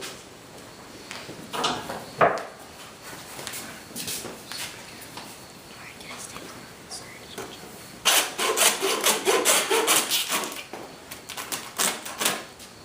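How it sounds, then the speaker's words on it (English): A hand saw rasps through a deer's neck during butchering, giving irregular scraping strokes at first, then a faster run of rhythmic back-and-forth cuts near the end, close up with no voices. "Take my saw and I'm going to cut off right there."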